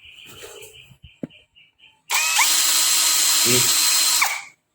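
A Nanwei cordless drill spins up loudly and close for about two seconds and then cuts off, following a few clicks and handling noises and a brief spoken word.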